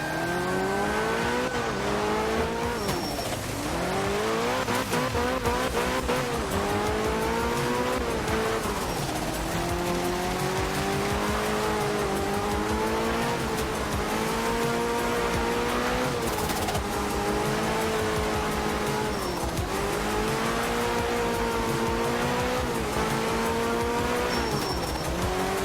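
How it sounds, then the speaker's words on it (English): A car on a drift run, its engine revving up and down in long sweeps while the tires squeal and skid continuously, loud and close for the whole stretch. "I think that was the best drift run I've done in quite a while"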